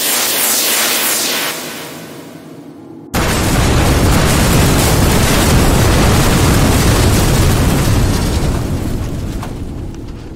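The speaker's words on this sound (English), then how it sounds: "IG-2000 erupted into an incandescent cloud that spread molten spangles across the atmosphere of the desert world." A starship struck by a full bank of concussion missiles blows apart in an incandescent cloud over a desert world. A roaring, crackling blast of broad noise surges in after a brief lull and sustains loudly for several seconds before easing off.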